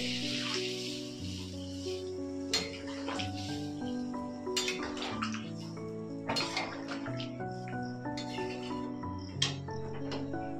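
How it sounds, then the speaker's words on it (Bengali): Hot water poured into a pan of potato and pointed gourd curry, bubbling and sizzling with irregular splashes and spoon clinks as the gravy simmers, close and moderately loud under a steady cooking hum. "আমি এবার একটু জল দেবো।"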